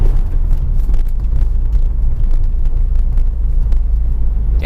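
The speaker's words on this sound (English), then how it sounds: "Let's take the WRX down our neighborhood bumpy road." A Subaru WRX with a firm ride rolls down a bumpy neighborhood road, giving a steady loud low rumble of road and engine noise with faint thumps from the bumps and no talk.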